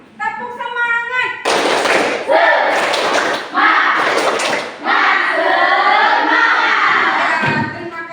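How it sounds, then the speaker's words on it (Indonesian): A group of children in a classroom chant and clap together in a rhythmic pattern, voices loud and close, with sharp claps punctuating the shouted words. "kita lakukan tepuk semangat terlebih dahulu"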